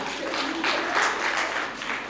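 An audience at a Hindi kavi sammelan poetry gathering claps in a brief, thick burst of applause, loud and sustained through the short moment.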